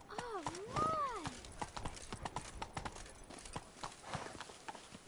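Roach the horse in a PS4 video game clops along at a steady hoofbeat rhythm, close and clear, with a short whinny-like vocal sweep early on and soft talk in the background.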